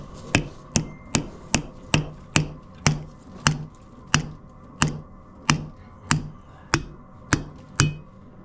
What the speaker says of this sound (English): The big copper thumper.